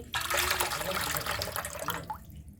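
Finely chopped green chillies are rinsed in water in a kitchen, giving a close splashing and pouring wash that runs steadily, then thins to a few trickles at the end.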